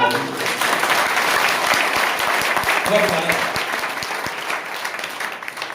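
Indoor audience at a talk breaks into loud, sustained applause, many hands clapping steadily for several seconds before it begins to ease off.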